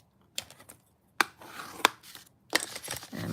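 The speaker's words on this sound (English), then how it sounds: "And put it back on the trimmer and cut it." A paper trimmer slices through card stock in three short, crisp cutting strokes spaced about a second apart, close and fairly loud, with no one talking.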